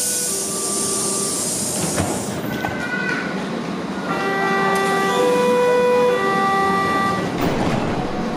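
Inside a Berlin S-Bahn class 483/484 train, a series of electronic warning beeps sounds in the middle, clear tones over a low rumbling hum.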